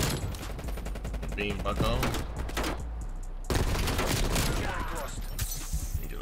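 Electric lightning gun firing in Black Ops Cold War, a dense crackling burst of shots running nearly throughout with a brief lull, loud and close, with someone talking over the fire.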